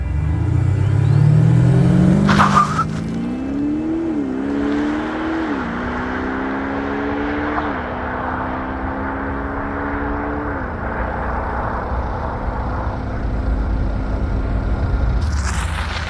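An SQ5 car engine revs hard and accelerates, rising through several gear shifts with a steady droning whine, loud and close, no voices.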